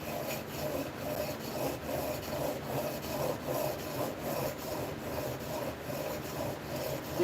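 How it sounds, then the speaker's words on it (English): A chisel held in a honing jig rubbed back and forth on a sharpening stone, a steady rhythmic gritty scraping with even strokes up close and no talk. "knocking off the little sliver of metal that forms on the back side of the chisel when you're shaving one side of the chisel"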